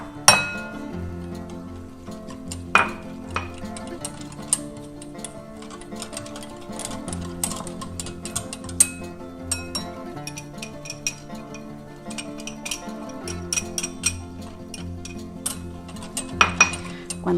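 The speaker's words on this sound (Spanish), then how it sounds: "a medida que la vamos agregando vamos batiendo para evitar que se nos formen grumos" Cornstarch is whisked into coffee with vanilla in a bowl, producing a rapid, steady metallic ticking and rattling against the sides with occasional sharper clinks, close and moderately loud, with no voices.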